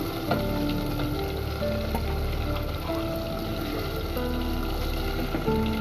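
Taro pieces being added to a hilsa fish curry sizzle loudly in hot oil, a close, continuous frying hiss with crackles and faint stirring clinks. No one speaks over it.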